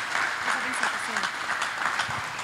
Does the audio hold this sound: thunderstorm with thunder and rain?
no